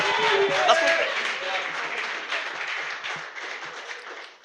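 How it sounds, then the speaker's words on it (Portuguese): A congregation claps and applauds for Jesus during a Portuguese-language church service, a dense, steady wash of clapping that holds for several seconds and slowly fades, with voices mixed in. "mais uma salva de palmas bem bonito para Jesus por esse mover"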